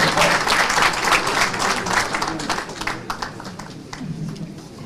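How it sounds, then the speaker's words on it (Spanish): Audience applause for a lawyer speaking at an event on the new criminal procedure code, loud sustained clapping from a crowd that gradually thins into scattered claps by the end. "Agradeceremos puedan brindar un voto fuerte de aplausos"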